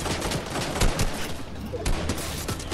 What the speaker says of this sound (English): Oh god, people shooting me. People shooting me from everywhere.